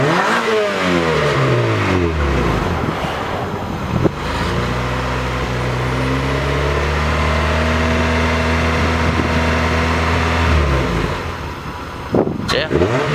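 A Honda Prelude engine with its muffler broken off revs hard and raw, rising and falling through several loud throttle sweeps close by, with a long sustained rev in the middle before it drops back.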